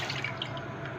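A cup of milk is poured for rice pudding, giving a steady close trickle of liquid with faint dripping and no voices.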